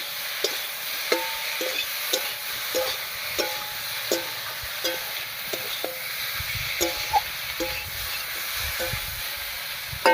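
Vegetables and cumin frying in a pan for a vegetarian sweet pumpkin and dal dish, a steady soft sizzle with regular light scraping taps of a spoon stirring, close and moderately quiet.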